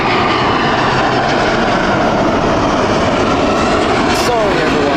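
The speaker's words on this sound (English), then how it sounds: "Airbus A350, inbound." A British Airways Airbus A350 jet arrives at Heathrow, its engine roar loud and close as a continuous broadband rush with a faint falling whine near the end.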